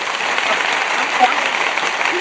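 Broadband applause from a crowd, steady and fairly loud, with scattered voices mixed in.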